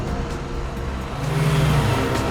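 A golden car drives past with a steady engine drone that swells toward the end, loud and close, with no talking over it.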